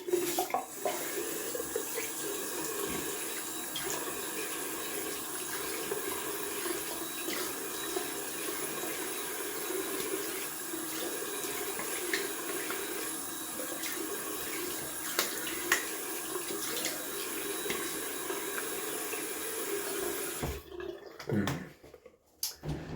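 A cold-water tap runs steadily for a long stretch, a continuous rushing stream of water that cuts off abruptly near the end.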